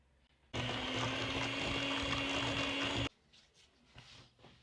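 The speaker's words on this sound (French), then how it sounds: "Moi, je vais me servir de mon robot." A stand mixer whirs steadily at high speed for about two and a half seconds, blending cookie dough with peanut butter and eggs, then cuts off abruptly, leaving quiet kitchen room sound.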